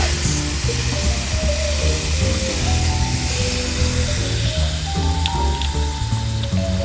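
White wine poured into a hot pan of browned onions and fond, cooked in a car, a loud steady sizzle and steamy hiss under a continuous tonal background.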